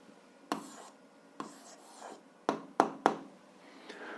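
A pen scratches out an algebra answer on paper in short bursts, several quick strokes and taps spaced unevenly, close and quiet in a still room.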